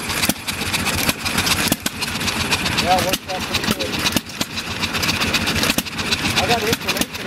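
John Deere one-cylinder hit-and-miss engines run close by with a steady chugging and periodic sharp firing beats, while people talk over the engine noise.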